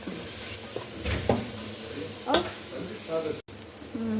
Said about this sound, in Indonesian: Kita masukkan rubiannya. Kita tumis.